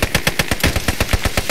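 Rapid rifle and machine-gun fire from an infantry battle in the video game Post Scriptum: a fast, even string of about a dozen sharp, loud shots in under two seconds, heard alone without talk.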